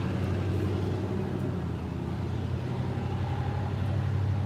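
A loud truck idles and rolls through a street intersection, a steady low engine rumble and road noise that holds close throughout with a slight dip midway.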